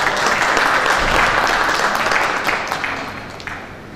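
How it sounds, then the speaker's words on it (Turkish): An audience at a textile and raw materials exporters' awards ceremony claps steadily and fairly loudly. The applause fades slightly toward the end. "Sayın Zeki Kıvancı alkışlarınızla sahnemize davet ediyorum."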